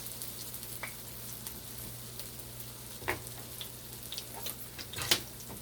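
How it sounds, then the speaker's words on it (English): Ripe banana fritters frying in hot oil: a faint, steady sizzle with scattered small pops and crackles, a couple of sharper spits standing out, and no voices. "I like them to fry not very nice, no burn, just nice."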